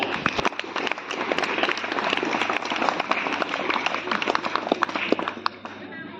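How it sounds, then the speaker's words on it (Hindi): A church audience at a World Sunday School Day event claps for competition participants, sharp individual claps standing out within fairly dense applause, with voices mixed in. "सभी प्रतिभागियों के लिए हम पुनः एक बार जोरदार तालियां बजा देंगे"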